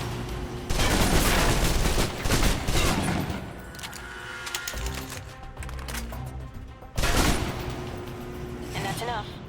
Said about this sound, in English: Now for your submachine guns. If you're trapped in close quarters with multiple opponents, the SMGs can help clear the room quickly. Not subtle or quiet